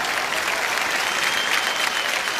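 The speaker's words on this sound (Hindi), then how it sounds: "तो जियो के लिए एक बार जोरदार तालियां हो जाएं।" Studio audience on a comedy show breaking into loud, dense applause, continuous and even throughout without a break.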